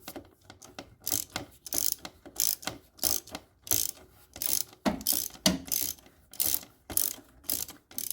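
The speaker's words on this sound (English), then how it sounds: "Fish the socket down. And loosen up the oil filter." Socket ratchet loosening the oil filter on a Fiat 500 Abarth, clicking out rapid bursts of pawl ticks in repeated short strokes with brief pauses between them, close and without voices.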